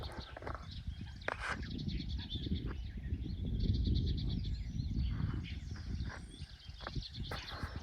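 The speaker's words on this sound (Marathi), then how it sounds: "मस्त पक्ष्यांचा आवाज" Birds calling outdoors at eight in the morning in rural Maharashtra, where peacocks are about, scattered chirps and calls layered over a low rumbling background, moderately near.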